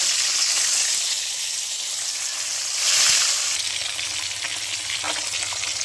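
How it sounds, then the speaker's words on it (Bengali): Fish fries in hot oil in a home kitchen, a close, steady sizzle and crackle running throughout with a brief louder swell midway and no talking. "এরপর আমরা মাছগুলোকে ভালো করে ভেজে তুলে নিই"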